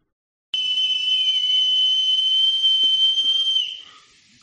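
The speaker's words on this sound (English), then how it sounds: "we'll all sustain the tone for a while. And this piercing sound continues for another 4 minutes." A group of people sustains one piercing, steady high vocal tone in unison, loud and unbroken for about three seconds before fading out, with no talk.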